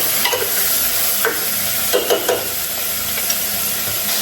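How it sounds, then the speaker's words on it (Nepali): Mutton curry with turmeric sizzles steadily in a pan while a utensil stirs it with several soft scraping strokes, all close and continuous. "हल्दी अब यसलाई एकछिन चलाउने एकछिन चलाइदिनु"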